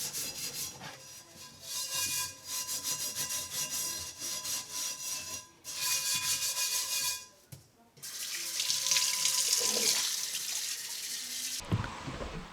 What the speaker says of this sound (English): I'm going to start by using some Barkeeper's Friend and some steel wool to remove the old seasoning and try to get back to bare metal